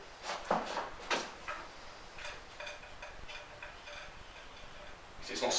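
A cleaning pull-through drawn through the barrel of a PCP air rifle, a few scraping, ticking rubs followed by quieter rhythmic squeaks, close and soft.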